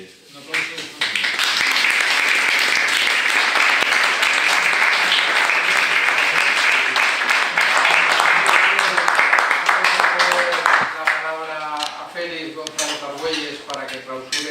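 Loud, sustained applause from an audience at a formal political foundation event, dense clapping for about ten seconds before it fades and a voice starts talking.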